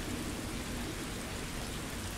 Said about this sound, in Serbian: Neka grmi još, nek seva.